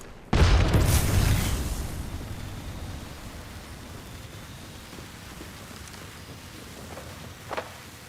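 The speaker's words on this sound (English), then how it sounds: "Grenade." Grenade explosion in a video game, a single loud boom with a rumbling decay that fades over a few seconds into quiet ambient noise, followed by a faint brief thump.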